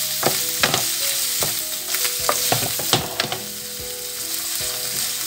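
Chopped mushrooms fry with onion in a hot pan, a loud continuous sizzle broken by repeated scraping knocks of a utensil stirring, with no voices.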